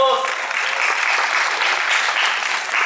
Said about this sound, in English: There he goes, give him a round of applause.